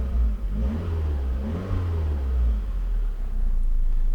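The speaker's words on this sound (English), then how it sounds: "You give it a nice rev and it's very smooth though." A 1991 Toyota Celica GT-Four engine revs smoothly, a deep low rumble that swells and settles while heard from close range inside the car, with no talking.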